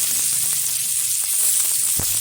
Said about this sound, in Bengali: এটা একটু লাল লাল করে ভেজে নেবো পেঁয়াজটা